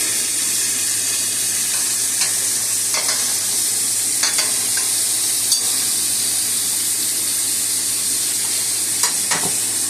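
Eye round steak fries in butter with rosemary in a pan, giving a constant bright sizzle with occasional soft clinks and scrapes of stirring or basting throughout.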